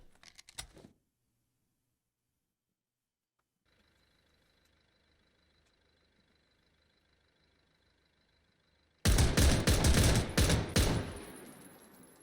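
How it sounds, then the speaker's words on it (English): In the video game Zero Hour, after a short burst and long near-silence with a faint hum, loud rapid gunfire erupts in a sustained volley, close and sharp. "He just knows that there's gunfire coming from the other side."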